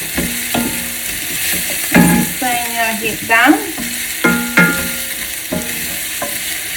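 Pork adobo sautéing in a pan, with close, crackling sizzle broken by repeated sharp scrapes and clanks of a spatula stirring, while a person speaks briefly.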